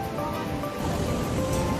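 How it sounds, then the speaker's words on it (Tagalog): Strong ocean waves crash and wash along a beach in La Union, Philippines, a loud, continuous rushing surge close by with no voices over it. "Lakas ng hampas ng alon."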